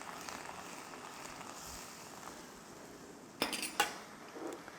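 Stir frying with curry powder in a pan, a faint low sizzle with a spatula scraping, then a couple of sharp metallic clinks of utensil against the pan near the end, no talk.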